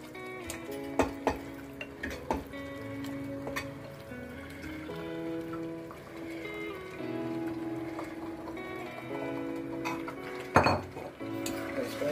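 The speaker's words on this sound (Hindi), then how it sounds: "अब हम इस समय ही अपना चिकन जो हमने मैरिनेट किया था उसको डाल देते हैं।" Marinated chicken tipped into a pan of thick mashed Punjabi gravy and stirred, with metal utensil clinks and scraping against the pan at intervals and a louder clatter near the end, set against a steady low kitchen background.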